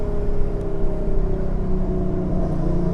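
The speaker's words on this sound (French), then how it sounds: "C'est typiquement mon activité favorite. Ça. Accélérer sous les tunnels." A 2012 Hyundai Genesis Coupé with a 3.8-litre V6 accelerates inside a tunnel, its loud engine drone booming and reverberating steadily, close and continuous with no voices.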